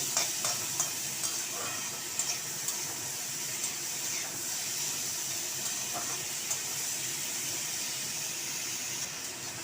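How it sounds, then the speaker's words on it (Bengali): Papaya chutney seasoned with a pinch of turmeric is stirred gently in a pan, giving a steady soft hiss and light sizzle with faint scraping taps throughout, close and moderately quiet. "এবার আমি এটাকে হালকা করে নেড়ে নিচ্ছি"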